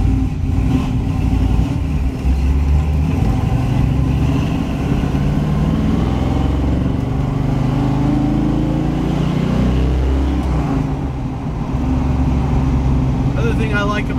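A 1967 Chevrolet Camaro RS-SS with a 383 cubic-inch stroker V8 drives along, its engine droning low and steady from inside the car while someone talks.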